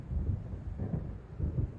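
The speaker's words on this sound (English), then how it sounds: "It seems there's a storm coming." Low thunder rumbles from an approaching storm in the Alan Wake video game, faint, deep rolling pulses recurring every half second or so beneath a soft windy wash.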